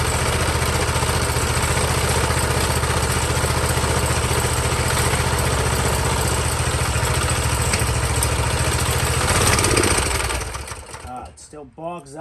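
A Honda CT200U motorcycle engine runs steadily close by right after starting, a loud, even putter that carries for about ten seconds before dropping away, with a voice speaking near the end.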